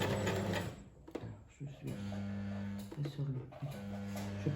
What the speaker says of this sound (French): Et là, je vais piquer les côtés. Donc, je pique les côtés.